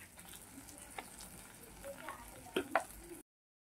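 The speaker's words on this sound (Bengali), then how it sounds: "এটাও 30 সেকেন্ডের মতো আমি কষাবো।" Turmeric and chilli powder being sautéed in a pan for a katla fish dish, a faint steady sizzle with a few scraping stirs near the end before cutting off.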